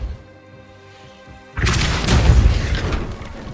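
A Depulso spell is cast in Hogwarts Legacy: after a quiet tonal ambience, a sudden loud booming thud hits and rumbles on with crashing texture for about two seconds.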